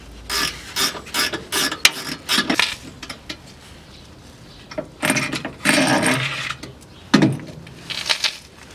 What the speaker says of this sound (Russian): Откручиваю здесь два болта и один болт сзади на корпусе.